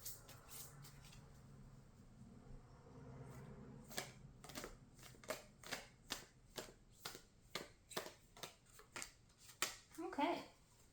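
Tarot cards being shuffled up close, a steady run of short, crisp riffling snaps with a soft rustle and low background murmur underneath.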